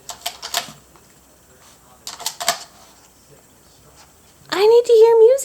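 A dog presses piano keys, giving short clusters of bright notes in separate bursts, followed by a louder sustained tone with a wavering pitch near the end.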